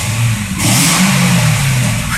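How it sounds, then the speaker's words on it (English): A 2013 Corvette Grand Sport with a quad exhaust revs loudly up close, its deep engine note rising into a sustained roar after a brief idle, with no talking. "Rev her up a little bit here."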